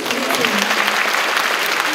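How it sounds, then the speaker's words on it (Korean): Dense, loud applause from the audience at a family concert fills the whole two seconds as a continuous close wash of many hands clapping. "박수 주세요."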